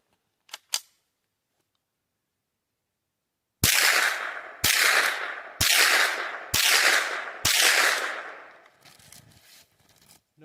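Five sharp .22 rifle shots from a Ruger SR22 and a takedown 10/22, loud and close, evenly spaced about a second apart with short ringing decays, followed by faint clicking handling noise.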